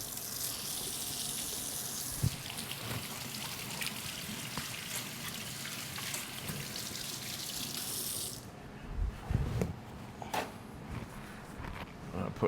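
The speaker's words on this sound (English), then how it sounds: "wash our hands again" Hands being washed under a running kitchen tap, a steady rushing stream splashing into a sink for several seconds before the water shuts off, leaving a few clinks and handling sounds.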